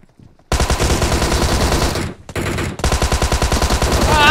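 Rapid automatic gunfire from hip-fired weapons in the battle royale game PUBG Mobile, loud sustained bursts with a brief pause midway before the shooting resumes, no talk over it.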